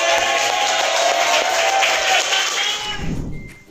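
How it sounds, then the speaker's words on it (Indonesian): Applause and cheering from a crowd come as a dense, loud, sustained wash of many hands clapping. It fades and cuts off near the end, with a low rumble and a brief tone following. "tepuk tangan"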